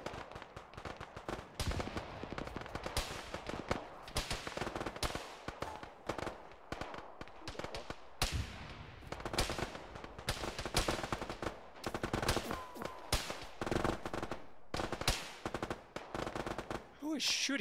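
Sustained bursts of automatic and single-shot gunfire from an ArmA military video game session with the ShackTac group, dense and loud throughout with rapid cracks and rattling volleys, some near and some more distant.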